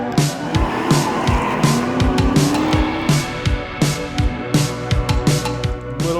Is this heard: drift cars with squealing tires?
yes